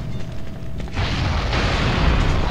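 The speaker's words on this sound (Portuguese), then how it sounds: "Uma pequena explosão vai acontecer." A small explosion in the video game Resident Evil 3 Nemesis sets off a loud, low rumbling boom that swells after a quiet moment and holds to the end, with no talk over it.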